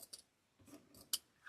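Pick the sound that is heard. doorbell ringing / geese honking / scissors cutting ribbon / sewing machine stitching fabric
scissors cutting ribbon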